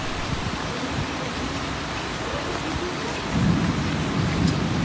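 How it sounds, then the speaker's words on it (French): A powerful supercell thunderstorm near Nice brings steady, loud rainfall with a low rolling rumble of thunder that swells toward the end. No voices are heard. "franchement c'est un orage mais d'une puissance électrique mais incroyable"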